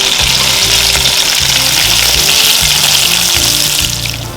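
Onion rings deep frying in hot oil give a loud, continuous bubbling sizzle that stays close and constant, fading slightly at the end, with no talking.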